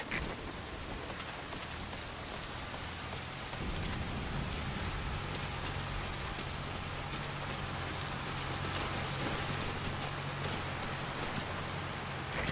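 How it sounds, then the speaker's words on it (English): Heavy rain pours steadily in the stealth video game Metal Gear Solid V: Ground Zeroes, a dense, constant hiss that grows slightly fuller partway through, with a low rumble underneath and no voices. "That rain just won't let up."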